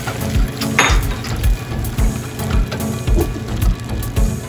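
A utensil stirs milk into a pizza white sauce in a pan, giving rhythmic scraping and clinking strokes against the pan with a soft bubbling undertone, close and steady.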